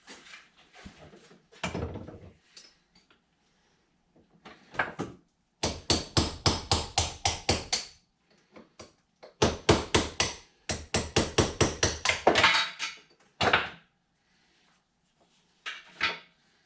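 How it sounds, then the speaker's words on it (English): Hammer blows drive a punch to knock a bearing out of a John Deere 455 mower deck spindle held in a vise. Sharp, loud metallic strikes come in quick rhythmic bursts separated by pauses, close and without talk. "I'm actually going to walk back over to the vise again and punch the other bearing out."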